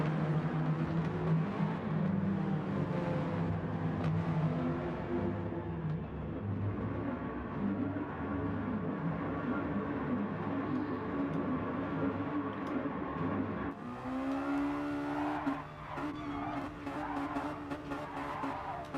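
Race cars roar and their tires squeal during burnouts in a Mazda Challenge round of a racing video game. The engine noise is loud and continuous, and its tone shifts sharply partway through.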